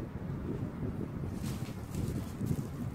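Electric fan with a newly replaced start capacitor running on its lowest breeze setting, giving a steady, broad whooshing airflow with wind buffeting on the microphone and no talking.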